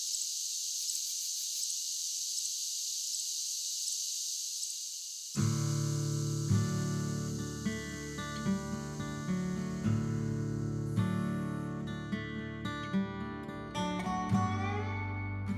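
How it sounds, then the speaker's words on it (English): A steady, high-pitched chorus of fall cicadas at night drones on its own, then music swells in around the five-second mark and plays over the continuing insect buzz. "you're hearing the last of the fall cicadas"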